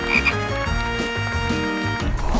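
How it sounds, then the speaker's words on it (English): Cartoon frog croaking in a children's puzzle game, a short burst of croaks set against a busy, loud musical backing with no talk. "Oh, it's a frog."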